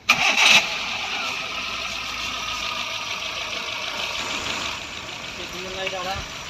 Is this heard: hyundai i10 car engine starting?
yes